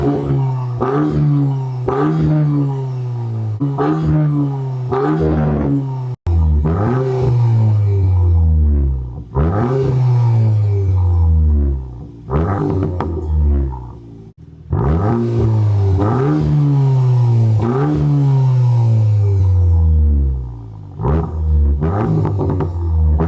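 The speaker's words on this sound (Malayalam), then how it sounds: "അപ്പോൾ നമുക്ക് കാറിൻ്റെ എക്സോസ്റ്റ് നോട്ട് ഒന്ന് കേട്ട് നോക്കാം." A 2024 VW Golf R fitted with an IE intake and a cat-back exhaust, revved hard several times in a row, each blip rising and falling in pitch, loud and close with no talking.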